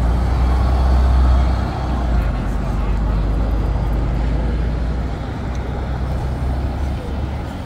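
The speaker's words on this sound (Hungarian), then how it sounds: "Jó kis hangja van. DAF motor." A DAF diesel engine of a city bus idles in a bus garage during an open day, a steady loud low rumble filling the scene with faint voices in the background.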